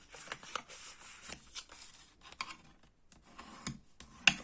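Paper folds for a mini album are creased by hand, giving quiet, close, intermittent rubbing and scraping strokes separated by pauses, with one sharper crackle near the end.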